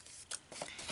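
Scissors snipping through paper while a gift card holder is cut out, a few quick close crisp cuts in a brief quiet moment.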